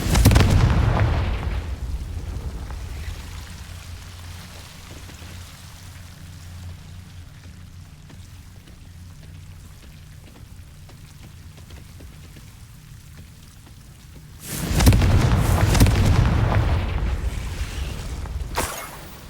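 Heavy booming explosions from the Confringo blasting spell in Hogwarts Legacy: a loud blast at the start decaying into a long low rumble, then a second powerful burst around fifteen seconds with crackling debris.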